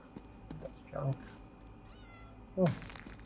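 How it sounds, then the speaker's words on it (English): Cat meowing in Elder Scrolls Online, Summerset, with two or three short rising-and-falling meows spaced about a second apart over a quiet ambient game background, one louder near the end. "I hear a cat."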